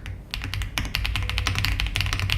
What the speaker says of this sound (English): That's my typing.